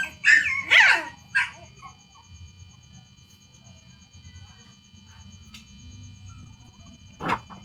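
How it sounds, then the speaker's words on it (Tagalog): A puppy yelps and whimpers in a few sharp, high bursts near the start, then a low background hum with one more brief yip near the end. "Uiyak ng tuta."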